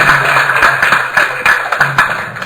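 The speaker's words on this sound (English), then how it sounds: "give her a round of applause" Rhythmic group clapping at a Govardhan Puja festival gathering, a fairly loud run of regular hand claps over a steady background roar, lasting a couple of seconds.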